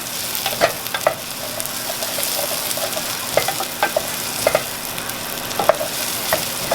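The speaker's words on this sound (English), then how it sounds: "we're gonna brown the garlic first." Garlic browns in a hot pan with a steady, crackling sizzle, broken by sharp scraping knocks as it is stirred, close up and with no talking.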